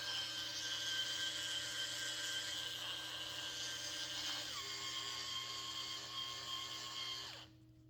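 A Ryobi USB lithium power scrubber spinning with a brush head attached, a steady high-pitched motor whine that drops in pitch midway and then winds down at the end, close and alone.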